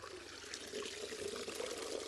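Excess salty water draining and trickling off freshly washed seaweed, a steady close wet patter that continues for the full stretch with no talk over it.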